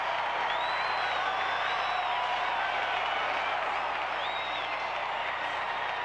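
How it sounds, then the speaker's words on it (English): A packed stadium crowd at a 1992 Atlanta Braves baseball game roars steadily after a sweep of the Reds, a broad continuous wash of cheering and clapping with occasional whoops and whistles rising above it, with no one speaking. "Listen to this crowd."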